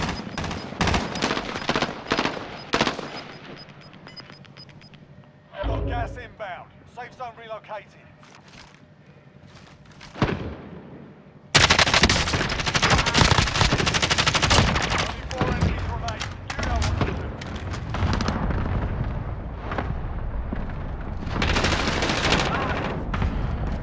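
Rapid bursts of automatic gunfire in Call of Duty Warzone crackle near and far, loud sustained volleys in the second half, with players talking over the shooting.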